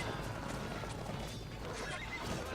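A horse neighs amid the dense clatter of a battle in the strategy video game Cossacks 2, with hoofbeats and crashing noise filling the background.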